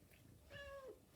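A cat gives a single short meow, faint and quiet, rising then falling in pitch, alone against a low background.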